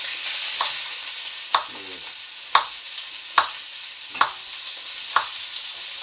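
Vegetables and grilled chorizo stirred in a frying pan, a soft continuous sizzle broken by five or six sharp scraping knocks of the utensil against the pan at roughly one-second intervals, close and clear.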